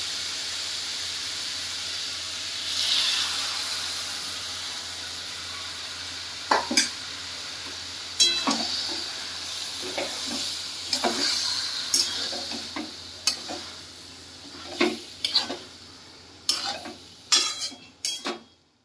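Soaked matar dal tossed into a hot pan with pumpkin greens: a loud sizzling hiss builds, then settles under repeated close scrapes and clinks of a spoon stirring against the metal pan, with no talking.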